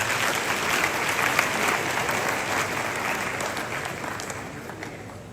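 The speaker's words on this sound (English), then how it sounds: "Clap for yourself." A university audience applauds steadily, a dense, loud wash of clapping that fills the whole stretch and tapers off slightly toward the end.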